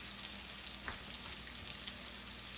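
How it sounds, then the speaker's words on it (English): Italian sausages browning in a frying pan give a steady, close sizzle with a faint stir partway through, and no talk. "we're not trying to fully cook them. We're just simply browning them."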